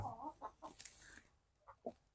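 Hens give a run of short, quiet clucks in a few irregular bursts, close but faint, with brief gaps between them and no talking.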